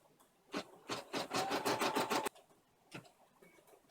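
Embroidery machine stitching the first step on a vinyl key fob held with tape in the hoop, a rapid run of rhythmic needle taps at close range, pausing briefly and then resuming.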